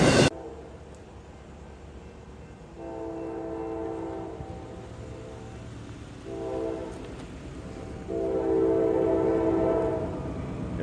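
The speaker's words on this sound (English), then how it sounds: "We've got a train coming, northbound. Norfolk Southern." A northbound Norfolk Southern freight train led by a GE AC44C6M locomotive sounds its multi-tone horn in three sustained blasts, growing louder as it approaches over a low rolling rumble.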